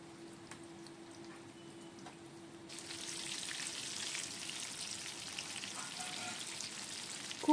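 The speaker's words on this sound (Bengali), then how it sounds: "খুব ভালো করে আমি পটলগুলো ভেজে নিলাম।" Pointed gourd frying in plenty of oil in a wok gives a soft sizzle that swells into a fuller, steady crackle midway, close and fairly quiet, with no voices.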